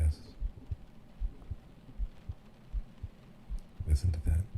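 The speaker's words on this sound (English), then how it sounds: "Listen to that heartbeat." A slow, steady heartbeat heard close against a chest, soft low thumps repeating evenly under a faint hum, with a brief brighter rustle near the end.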